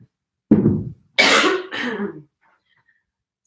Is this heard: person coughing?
yes